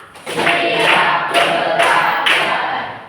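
Students in a class clap in unison as part of a counted clapping routine, five loud group claps evenly spaced, near and crisp.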